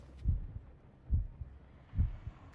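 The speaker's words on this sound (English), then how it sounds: "Why can we hear her heart beating all of a sudden?" Low, muffled heartbeat thuds in a horror video game, three double-beat pulses spaced about a second apart, steady and alone with no talk.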